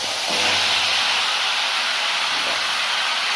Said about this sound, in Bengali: এই সাইডে ফোড়ন দেওয়া হচ্ছে